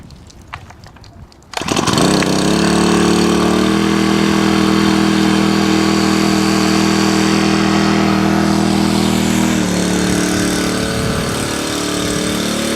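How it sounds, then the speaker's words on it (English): A small Honda portable pump fires up and runs loudly while filling a brush truck's water tank: a steady, close engine drone with a faint change in tone midway, after a quieter start. "So now what we're gonna do is we're gonna fire up our little pump."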